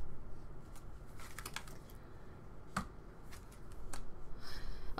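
Cards shuffled by hand during a tarot-style reading, light scattered clicks and a few sharp flicks and slaps, quiet and close, with no talking.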